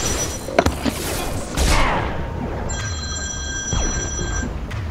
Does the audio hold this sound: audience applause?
no